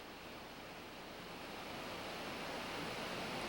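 Steady roar of a waterfall on an Alaskan salmon river where grizzly bears fish for jumping salmon, a broad constant rush of falling water that holds even and continuous throughout, with no voices.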